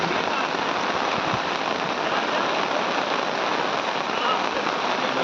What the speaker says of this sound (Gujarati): તાલુકાના તલંગણા ગામે ધોધમાર વરસાદ વરસતા શેરીઓમાં અને ઘરમાં પાણી ઘૂસ્યા.